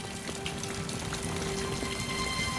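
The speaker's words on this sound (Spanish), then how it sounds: "Me gusta caminar bajo la lluvia." Steady rain patters and splashes in a constant wash of noise, with a faint tonal hum running underneath.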